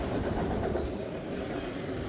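Norfolk Southern NS11R freight train of trash dumpster cars and intermodal racks rolls past nearby, a loud steady rumble with wheel clatter throughout and no voices.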